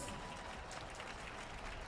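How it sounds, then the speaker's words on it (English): Steady applause from an audience at a military passing out ceremony, a faint, even, broadband patter of many hands continuing without a break. "So please give them a round of applause."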